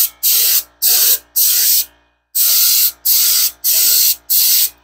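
A paint gun sprays primer onto terracotta in seven loud, close bursts of hissing spray, each about half a second long, with a longer pause partway through.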